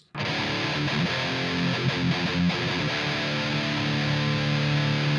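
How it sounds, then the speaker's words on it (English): Electric guitar through a Line 6 POD with a harsh digital distortion tone, a sustained chord ringing out loud and steady, with no other sounds. "And then we have a distortion tone that I made."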